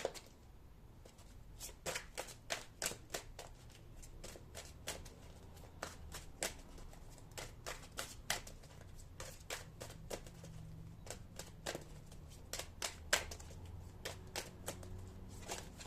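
Tarot cards are shuffled and dealt in a quiet room, giving faint, irregular crisp snaps and riffles spread across the whole stretch with no talking.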